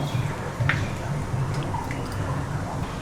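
Mustard seeds splutter in hot sesame oil for a raw mango pachadi, with small irregular pops and crackles over a constant sizzling hiss.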